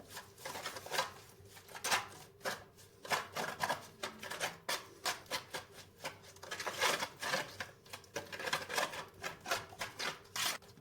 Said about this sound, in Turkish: baharatları, salçayı ve sarımsakları güzelce karıştırdım